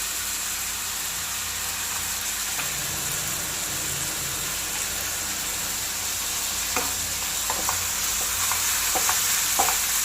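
Sliced green chillies fry in ghee for a chicken biryani, giving a steady close broadband sizzle throughout with a few short clicks of stirring near the end; no talk.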